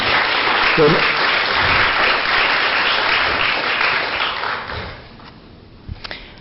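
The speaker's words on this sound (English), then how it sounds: "Hey, I have round of applause for our colleagues all over British Columbia." Audience applause at an arts summit, sustained and fairly loud for about five seconds before fading out, with a few faint voices underneath near the end.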